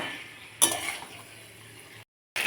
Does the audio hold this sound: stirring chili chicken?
yes